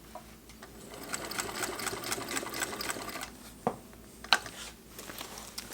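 A Singer 201 sewing machine stitches through a jeans hem in a fast, continuous whirring run that is close and fairly loud. It slows to a stop with a few clunks near the end, and nobody speaks.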